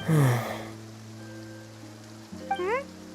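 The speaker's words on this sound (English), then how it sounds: "It often rains on days where there are trials being held." A soft, steady hiss of rain falls in Genshin Impact's rainy city, running low beneath gentle tonal game music and a brief rising chime flourish near the end.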